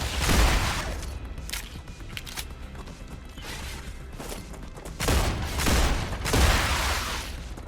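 Gunfire blasting bugs in the video game StarRupture, with bursts of shots and booming impacts at irregular intervals over a steady mechanical background, loudest in clusters near the start and toward the end.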